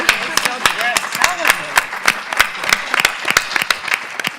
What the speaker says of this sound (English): Hey, we're going to clap for her.